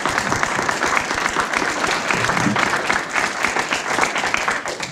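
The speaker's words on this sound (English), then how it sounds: "let us give a huge round of applause" Crowd at an American Legion post Veterans Day event giving a round of applause for the veterans present; dense, steady clapping from many people, loud and sustained without speech.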